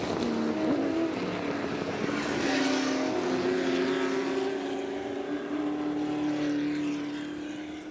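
Ford GT40 race cars at the Goodwood Revival roar past in a pack, engines howling with a sustained high-pitched whine that shifts pitch as they pass, loud and close.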